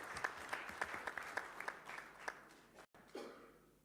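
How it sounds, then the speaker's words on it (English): Audience applause at a live community event, a steady burst of clapping from a crowd lasting a few seconds, briefly cut off before resuming more faintly. "I think that deserves a big round of applause to all of them."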